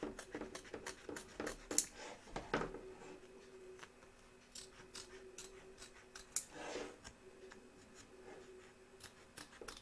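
Scissors snip around the edge of an embroidered Statue of Liberty applique freed from its hoop, a quiet run of small, crisp clips and rustles close by.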